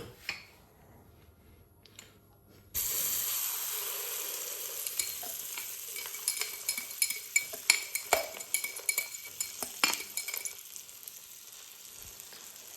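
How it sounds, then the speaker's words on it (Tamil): A quiet start gives way to a sudden, steady sizzle of beaten eggs poured into hot oil for a mushroom omelette, with scattered utensil clinks against the pan throughout. "நம்ம அடித்து வச்சிருக்க முட்டையை இப்போ நம்ம வந்து ஊற்றி பொரிக்க போகிறோம்"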